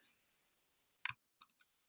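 Computer mouse clicks while inserting a citation in a document: one sharp click, then a short cluster of three quieter clicks, crisp and close against near silence.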